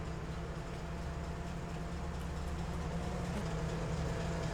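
Steady low rumble and hum of a train setting off in Farming Simulator 25, a continuous engine drone with a faint tonal whine, even and unbroken throughout with no talk.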